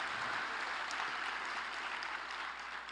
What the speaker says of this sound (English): Let's give Laloy a big round of applause.